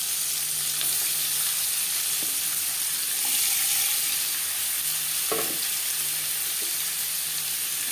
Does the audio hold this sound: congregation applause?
no